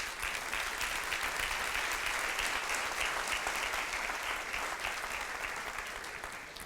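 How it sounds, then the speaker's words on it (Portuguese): A church congregation applauds after the Lord's Prayer, a full, sustained roar of clapping from many people that stays even throughout and tapers a little at the close. "Vamos aplaudir a palavra do Senhor."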